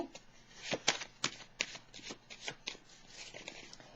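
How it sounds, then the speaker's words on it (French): Tarot cards being shuffled by hand before a draw, a quick series of crisp riffling flicks and soft slaps in an irregular rhythm, close and fairly quiet. "Là, je vais piger une carte sur patience et planification."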